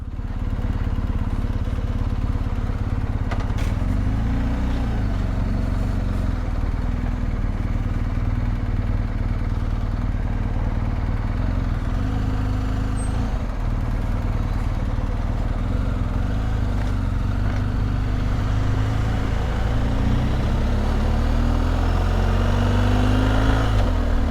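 A BMW R1250GSA motorcycle ridden out of Dublin, its engine a steady, loud drone with wind rush and road noise throughout, pitch rising gently near the end.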